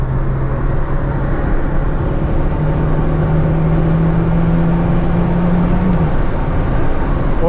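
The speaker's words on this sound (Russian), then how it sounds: "Вот третья передача в пол." A car accelerating hard in third gear with the pedal floored, a steady loud engine drone and road roar filling the cabin, a low tone slowly rising in pitch as revs climb.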